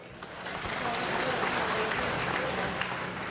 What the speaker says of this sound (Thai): ขอเสียงปรบมือให้กับ แซมมี่แฮกเลอร์